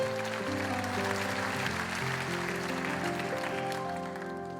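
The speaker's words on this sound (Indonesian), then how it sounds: "Beri tepuk tangan yang meriah." A church congregation applauds under sustained music, with the clapping soft and spread out beneath keyboard chords that dominate the sound.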